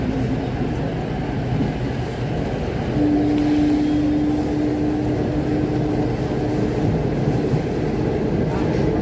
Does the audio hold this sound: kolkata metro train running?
yes